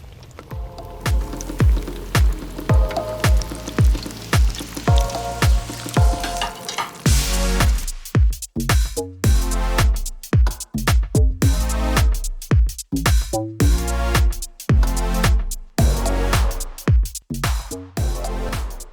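White bass fillets dropped into hot grease set off a loud, close, continuous sizzle and crackle of frying fish that swells and pulses steadily throughout, with no talking.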